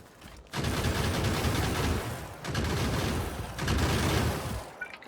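Automated gun turrets in Factorio fire in sustained rapid bursts, three loud rattling volleys separated by brief pauses, dense and close with no speech.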